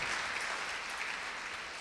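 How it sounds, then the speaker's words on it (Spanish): Church congregation applauding in praise of the Lord, a dense, continuous wash of many hands clapping at steady volume with no talk over it. "Let's give it a big applause to the"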